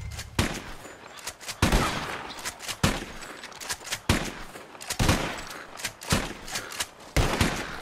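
Rapid gunfire in a shooting contest in Red Dead Redemption 2: about seven loud, sharp shots come at irregular intervals, each with a short echoing tail.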